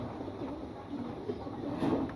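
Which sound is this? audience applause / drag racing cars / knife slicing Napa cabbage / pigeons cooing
pigeons cooing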